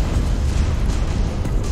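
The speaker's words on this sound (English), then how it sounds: "Did you just get killed by the ensuing explosion?" A heavy, continuous rumbling blast from an explosion in the video game Halo Reach fills the moment, loud and dense throughout with no speech over it.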